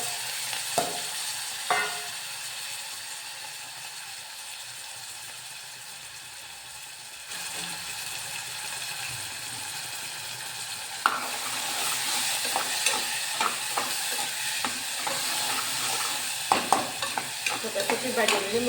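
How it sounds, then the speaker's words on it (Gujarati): Chilies, tomatoes and ginger are tossed into hot oil for a tempering and sizzle softly at first. The frying then swells louder and busier, with clinks and stirring scrapes near the end. "આમાં મરચાં ટમેટા આદુ નાખીને વઘાર."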